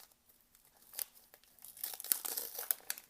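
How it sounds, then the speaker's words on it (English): Plastic packaging of a 2016 Russian military ration being torn open, heard as quiet crinkling and then a denser burst of ripping and crackling, close and alone. "Tear slots where you can rip it open safely."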